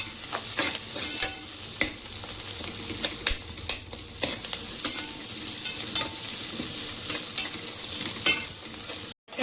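Tomatoes sautéing in oil in a pan for tomato rice, a soft continuous sizzle punctuated by repeated spoon or spatula stirring clicks, close and unvoiced.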